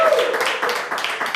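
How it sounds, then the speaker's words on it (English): A studio audience gives a brief burst of clapping for a guest on a talk show, close and fairly loud, fading within about a second and a half. "Please give her a round of applause"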